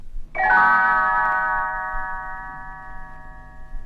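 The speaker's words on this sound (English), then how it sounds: "You will know it is time to turn the page when Tinker Bell rings her little bells like this." A single bright chime of small bells, struck once and left ringing with a clear, shimmering tone that slowly fades.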